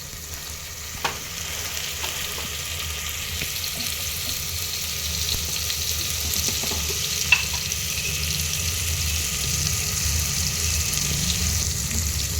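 Cumin, fenugreek and coriander seeds dry-roasting in a pan for a masala fish curry, giving a steady soft sizzle and crackle with occasional light clicks of stirring, close and continuous with no talk.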